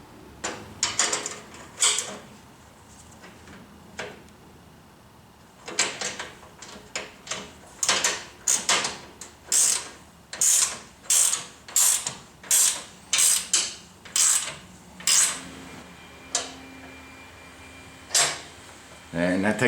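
Bolts tightened on a Ridgid R4512 10-inch table saw: a close series of quick ratcheting clicks and creaks in uneven bursts, growing into a regular rhythm of strokes, with quiet pauses between.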